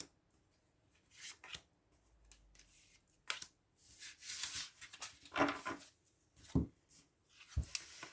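Tarot cards shuffled and drawn from the deck in quiet, with soft papery riffles and several sharp slaps and snaps as cards are laid down, no voices.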